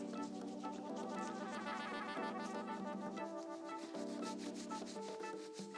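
Hands rubbing briskly together to warm the skin, a steady continuous friction sound lasting throughout, close and fairly loud, though it is blended with sustained tonal music playing underneath.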